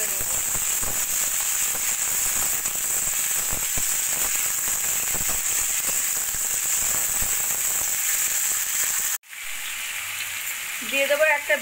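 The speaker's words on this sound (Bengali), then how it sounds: "এবার সব সবজিগুলো একটু ভাজা ভাজা করে নেব।" Carrot, pumpkin, potato and flat beans are frying in hot oil in a wok, giving a loud continuous sizzle with crackling pops that cuts off abruptly near the end before a brief stir.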